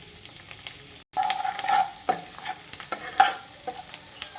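Chopped garlic and green chilies dropped into melted butter in a pan for paneer Maggi, sizzling and crackling with stirring scrapes, close and moderately loud after a brief pause.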